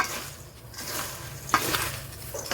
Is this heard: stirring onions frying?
yes